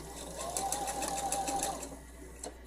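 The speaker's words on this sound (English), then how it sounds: "So I just continue stitching. Now I'm coming right up to the facing" Home sewing machine stitching the front facing of a pullover garment: a brief steady whirring hum of the motor with rapid needle ticking, close and fairly quiet, stopping before a soft click near the end.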